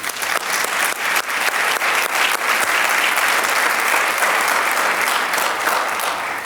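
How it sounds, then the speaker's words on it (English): Sustained applause from a ceremony audience honoring the Counselor of the Year, steady dense clapping throughout at moderate loudness with no talk over it. "Please offer a round of applause"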